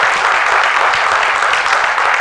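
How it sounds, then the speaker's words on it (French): An audience at a live talk event claps loudly, a dense, steady wall of applause with no pauses that runs the whole time. "je voudrais qu'on applaudisse très fort"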